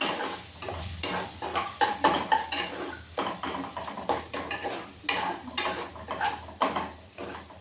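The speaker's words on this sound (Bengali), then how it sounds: "চিকেনটা দেখো খুব সুন্দর ফ্রাই হয়ে যাচ্ছে" Chicken frying in a pan for egg chicken pasta, sizzling beneath frequent clattering scrapes and knocks of a utensil stirring against the metal pan.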